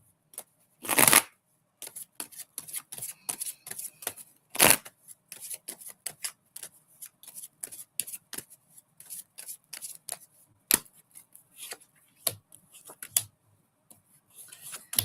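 Tarot cards are shuffled up close in quick irregular riffles and taps, with a few sharper snaps, steady throughout and no voices.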